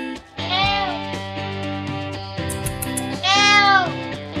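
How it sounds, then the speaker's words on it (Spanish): A house cat meows repeatedly at close range, with two long drawn-out cries and rising, wavering pitch, loud and alone without any talk. "Buen gato."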